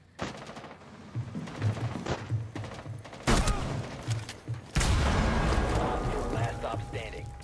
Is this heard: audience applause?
no